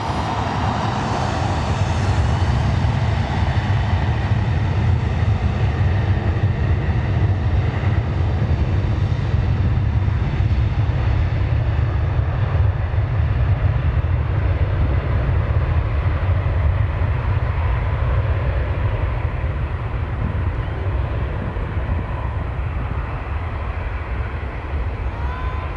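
Jet airliners take off and land at Lisbon Airport, heard from very close as a loud, continuous engine roar that slowly fades, with no talk.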